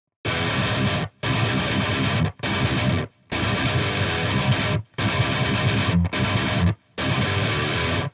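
Heavy distorted electric guitar plays a breakdown riff in loud chugging bursts, seven blocks separated by short silent stops, with no talk.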